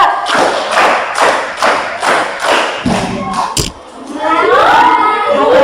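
A classroom group claps in unison during a numbered clap game, a steady run of loud, evenly spaced claps that stops abruptly, after which a voice speaks.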